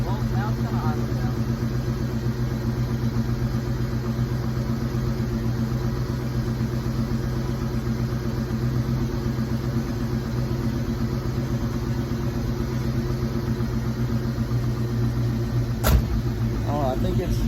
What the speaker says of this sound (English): And now it just idled back down a little bit